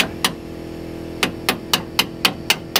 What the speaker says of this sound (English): We got to get that bolt out. So all it is straight hammering it out.